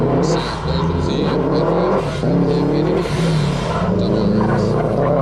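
A Subaru WRX hillclimb car accelerates hard at a lakeside hillclimb event, its engine note loud and continuous as it revs through gears, with a commentator talking over it throughout.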